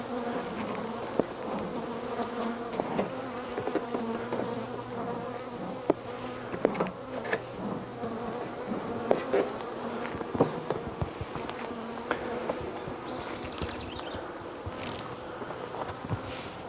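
Honeybees swarm around an open hive under inspection, their dense, continuous buzzing close and steady, with scattered clicks and knocks from the frames being handled.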